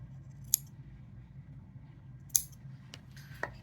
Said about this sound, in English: I'm trimming the ends of these pieces to a point.